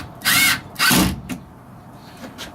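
A cordless power drill driver drives screws into a cabinet being fitted inside a camper van, with two loud, close whirring bursts of about half a second each, then a brief faint tap and quieter handling noises.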